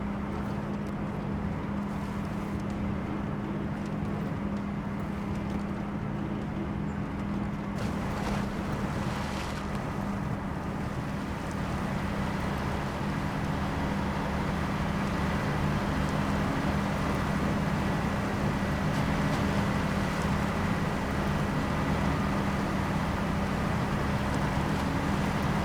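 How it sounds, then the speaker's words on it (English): Truck engine in SnowRunner driving through mud, a steady low droning rumble that holds at an even level throughout, alone with no talk over it. "I'm going to just be quiet for a second so you can actually listen to the truck."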